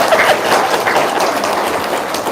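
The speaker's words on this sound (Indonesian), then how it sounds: "Tepuk tangan buat Pak Haji Dwi." Loud, dense applause from a crowd honoring Pak Haji Dwi at a gathering, a steady wash of clapping with faint voices mixed in, holding at an even level throughout.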